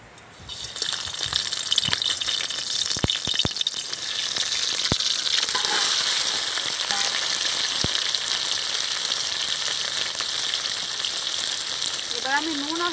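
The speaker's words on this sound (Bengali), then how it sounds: "তেল গরম হয়ে গিয়েছে, এবার চিংড়িগুলো আমি তুলে দেবো।" Prawns frying in a little hot oil, a loud steady crackling sizzle that runs unbroken throughout, with a few spatters and clinks near the start and a brief voice near the end.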